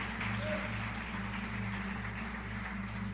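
A church congregation applauds in a steady, continuous patter of clapping that fills the room, moderately loud and unbroken, with no talk over it.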